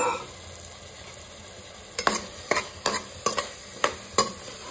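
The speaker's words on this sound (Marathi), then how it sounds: "ओले वटाणे आपण चांगले असे मिक्स करून घेतले" Green peas being stirred into a cooked pulao masala in a pan, a steady soft sizzle broken by about six sharp scraping spoon strokes in the second half, close and alone with no voices.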